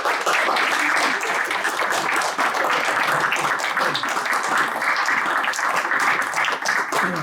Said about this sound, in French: Je crois qu'on peut peut-être les applaudir